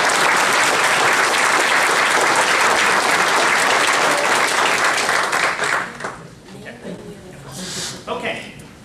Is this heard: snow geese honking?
no